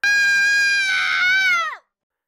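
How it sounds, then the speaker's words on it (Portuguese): A single long, piercing scream rises out of a child's bedroom at night, loud and close, with a strained harmonic tone that holds steady, then bends downward and cuts off abruptly into silence. "A última coisa que os pais dele ouviram naquela noite foi um grito vindo do quarto do Pedro."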